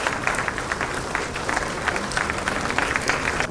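A crowd applauds at a ceremony handing appointment letters to newly selected candidates, steady mid-level clapping from many hands with occasional sharper claps standing out, continuing evenly for the whole stretch.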